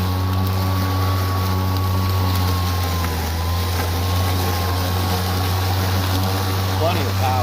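A GreenWorks 48V battery self-propelled 21-inch lawn mower runs steadily in mulch mode, giving a continuous close electric motor hum and blade whine that stays constant throughout.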